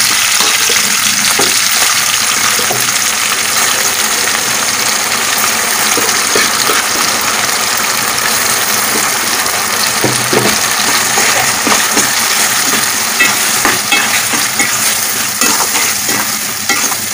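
Onion, cabbage and chana dal fry in a pan for a South Indian kootu, with a steady loud sizzle throughout and scraping from the spoon as the mixture is stirred, and no talking.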